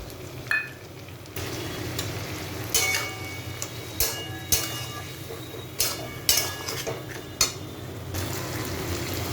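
Potatoes and pointed gourd frying in oil with poppy seed paste, Kashmiri chilli powder and salt, a steady close sizzle broken by several sharp clinks and scrapes of a spatula stirring in the pan.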